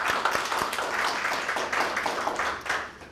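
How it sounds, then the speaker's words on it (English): An audience at a Filecoin developer event in Seoul gives a short round of applause, with dense overlapping claps at a moderate level. "So a huge round of applause for all of them."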